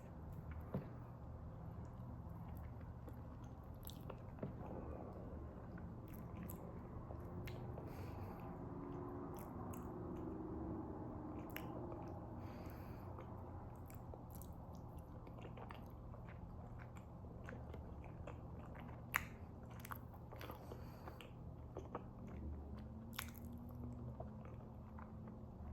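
Someone chews and eats fufu up close, with soft wet smacking and crunching bites repeated irregularly over a quiet room background and no talking.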